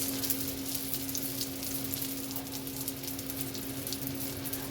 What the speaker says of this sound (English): I do not do too much to these except fry them just like this.